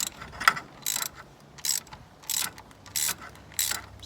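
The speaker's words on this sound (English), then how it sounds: "Just gonna go ahead and loosen that one." Ratchet clicking in short bursts while loosening a T30 bolt on the high pressure fuel pump of an R56 Mini Cooper S, about seven quick ratcheting strokes spaced evenly, close and fairly loud with no talking.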